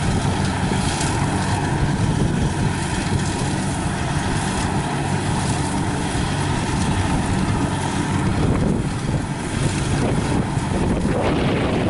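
Strong wind gusts across a muddy rain-season rice field where a Kubota 70 combine harvester is cutting rice, a steady loud roar with buffeting on the microphone throughout and no talk.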